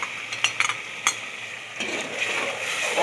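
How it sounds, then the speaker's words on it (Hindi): Minced keema frying in a pan with ginger, a soft continuous sizzle under a few quick clinks and scrapes of a spoon stirring, close and fairly loud, with no talking. "कीमे की भुनाई होने शुरू हो गई है"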